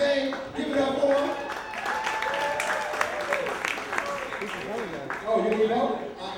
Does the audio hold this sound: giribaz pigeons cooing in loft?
no